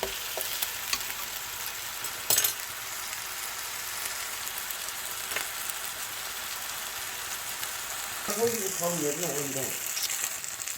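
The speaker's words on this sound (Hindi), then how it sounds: "और इसी थोड़े से ऑयल में मैं बना रही हूँ।" Beef burger patties fry in a small amount of oil in a pan, with a continuous close sizzle and crackle throughout and a brief voice near the end.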